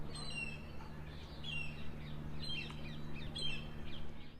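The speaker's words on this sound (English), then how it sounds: "It's the grey hornbill, and it's found in a lot of regions in India." Several short grey hornbill calls ring out at intervals over a steady low hum, fairly distant and moderately faint.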